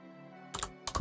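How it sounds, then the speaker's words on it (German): Short bursts of typing on a computer keyboard while playing Minecraft: a few close, quick keystroke clusters, first one and then a second after a brief pause, over a low steady background hum. "dass ihr das Tippen jetzt ein bisschen lauter hört"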